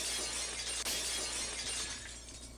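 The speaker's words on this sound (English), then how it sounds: "The unpleasant, piercing sound of shattered glass" Glass shatters in a dense, piercing crash, with bright scattering fragments that ring out, then a softer tinkling tail as shards settle.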